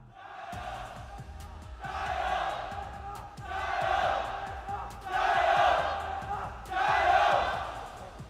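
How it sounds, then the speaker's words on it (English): Esports tournament crowd at a final roaring and cheering in repeated loud surges, each swell rising and fading over a steady arena murmur. "Doesn't seem to have made the crowd too disappointed though, as they're still popping off."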